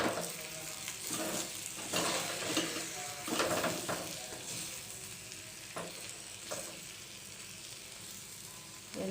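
Spices frying in oil in a pan while being stirred slowly, a steady close sizzle with periodic scraping strokes of the spoon against the pan throughout.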